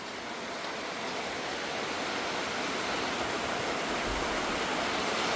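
Steady rain pours down around a hut in a rice field, a dense, unbroken hiss that stays even and fairly soft throughout with no voices.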